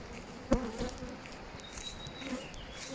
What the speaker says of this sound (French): C'est un essaim que j'avais récupéré donc vendredi